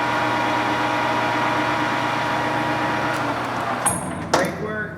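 A Kingston HJ-1700 17 x 67 inch engine lathe running steadily at 950 RPM, a smooth continuous mechanical hum with a few brief clicks near the end.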